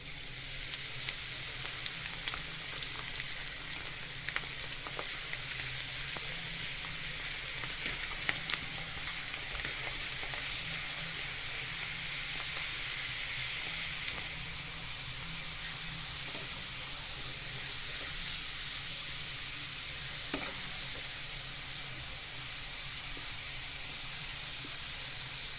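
Moong dal fries in hot oil with a steady, even sizzling hiss that continues unbroken throughout, close by and moderately quiet, with no talking.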